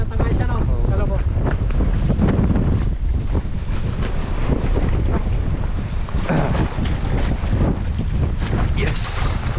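Strong wind blows over the sea, roaring and buffeting the microphone with gusty rushes and water sounds underneath, while people talk nearby.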